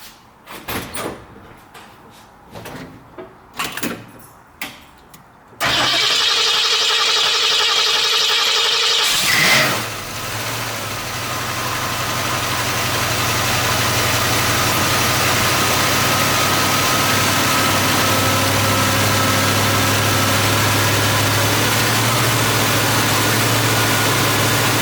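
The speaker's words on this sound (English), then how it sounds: "I need to get fuel into the bowls of the carburetor and then attempt to fire it up." Carbureted engine being revived after a rebuild: a few clicks and clunks, then a loud crank that catches and fires up, settling into a steady, close idle that runs alone to the end.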